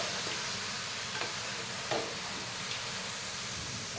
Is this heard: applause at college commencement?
no